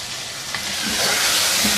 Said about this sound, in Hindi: इसको 3-4 मिनट अच्छी तरह से भून लेंगे।